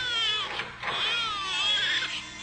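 An abandoned newborn infant cries in an animated cartoon scene, a steady high wailing that rises and falls continuously through the short moment, loud and close with no talking.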